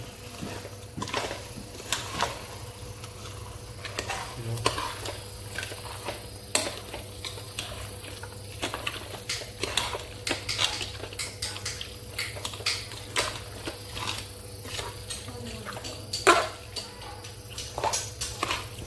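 Buffalo meat curry with tomato being stirred in a pot, giving irregular light metallic clinks and scrapes of a spoon against the pot over a steady low hum, with no talk.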